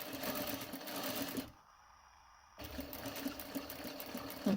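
Sewing machine stitching across the corner of a paper bag pocket, a steady close motor whir with needle clatter that stops for about a second before resuming.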